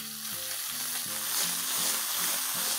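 Crushed ginger, garlic and green chili sizzling in hot oil in a wok, a bright continuous frying hiss broken by a few rhythmic stirring scrapes, close and alone.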